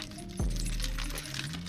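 A bunch of keys jangling and clinking near a supercar, a sharp metallic chink followed by bright rattling jingles, close and fairly loud, with no talk.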